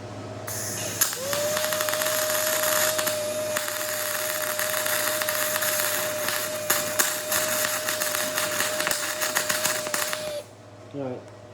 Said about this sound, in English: I figure we should probably be able to weld this no problem.